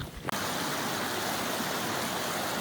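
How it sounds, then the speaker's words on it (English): A mountain creek on a Colorado hiking trail, rushing steadily in a dense continuous wash of flowing water, close and loud after a brief quieter moment at the start. "Crossing the creek here"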